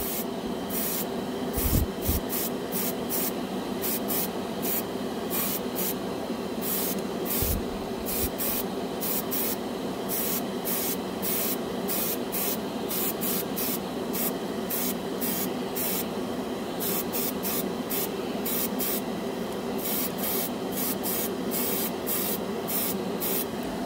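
Airbrush with a big needle and raised air pressure spraying Vallejo Air paint straight from the jar onto bare plastic, a continuous close hiss broken by rapid short bursts of spray.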